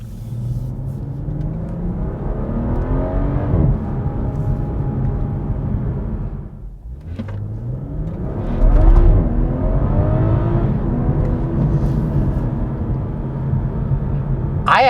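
A BMW in sport mode with Active Sound Design disabled revs and accelerates with a loud, rising rumble, briefly easing off before surging again, close and continuous with no talking.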